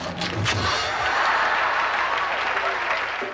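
Studio audience applause from a late-night talk show, a dense burst of clapping with scattered sharp claps, loud and sustained for about three seconds.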